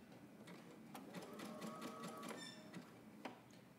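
A sewing machine runs a zigzag stitch to attach elastic onto swim trunks, a quiet, rapid mechanical clatter in short bursts with brief pauses.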